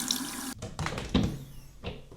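Cold water runs from a bathroom sink tap, a close, steady rushing stream with a few splashy surges and changes as hands move under the flow.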